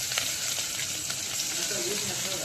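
Mustard seeds, cumin, asafoetida, green chillies and curry leaves temper in hot oil with a steady, soft, close hissing sizzle and faint crackles.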